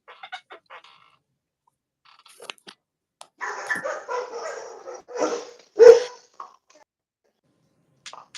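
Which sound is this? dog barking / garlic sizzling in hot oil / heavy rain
dog barking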